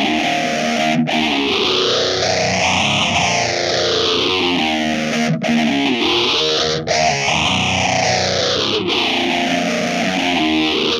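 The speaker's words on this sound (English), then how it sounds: "The Night Witch from Make Sounds Loudly Pedals is a fuzz and a phaser in a single pedal enclosure." Electric guitar through the Make Sounds Loudly Night Witch fuzz and phaser pedal, a loud distorted fuzz tone with a slow phaser sweep rising and falling repeatedly, played alone with several brief breaks between notes.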